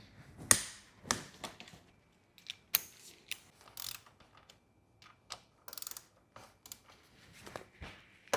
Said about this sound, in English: so I can torque this axle nut